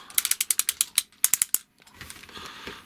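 Plastic waist swivel joint on an MP01B Nemesis Prime transforming robot action figure ratcheting close up, two quick runs of crisp regular clicks separated by a brief pause, followed by softer handling rustle, with no talking.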